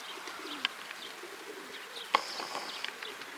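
Pigeons inside a large coop coo and chirp faintly, with a few sharper calls and light rustling over a quiet background, no voices.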